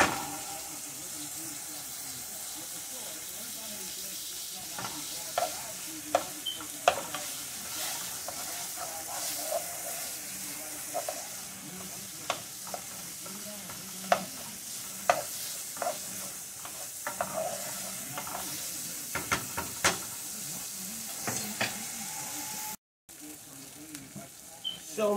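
Shrimp and mussels sizzle steadily in a hot pan under a continuous frying hiss, with scattered sharp clicks and scrapes as a utensil stirs them, close and fairly quiet throughout; a brief dropout occurs near the end.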